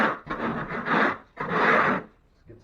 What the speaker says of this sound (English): Scrape everything with your knife